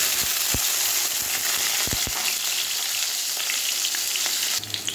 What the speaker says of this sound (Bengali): এই যে পেঁয়াজটা লাল লাল করে ভাজা হয়ে গেছে